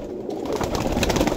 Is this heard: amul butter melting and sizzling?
no